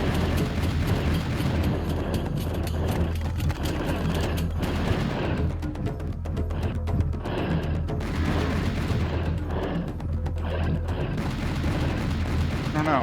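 Rapid gunfire rattles almost nonstop in Serious Sam: The Second Encounter, with dense repeated shots and booming blasts over a constant low hum for about thirteen seconds.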